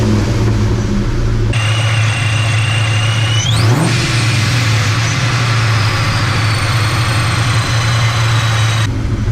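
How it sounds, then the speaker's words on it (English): Supercharged 2004 Ford Mustang GT V8 revved once from a steady idle, pitch sweeping sharply up then falling back, supercharger whine riding over the loud, close engine drone throughout. "Let me do a little bit of a rev."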